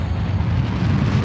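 A rocket main engine ignites in Kerbal Space Program, a loud, dense low roar with crackling rumble that fills the whole brief moment.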